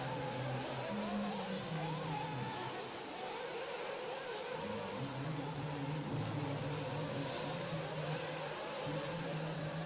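Race cars driving toward the finish line at a Silver State Championship qualifying event, engines droning with shifting pitch at a moderate distance, steady throughout, under faint commentary.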